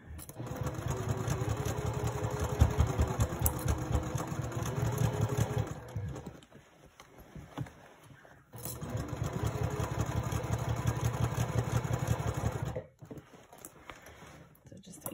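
Sewing machine stitching handbag fabric pieces together in two long, rapid runs of even needle chatter, separated by a brief pause with light handling sounds.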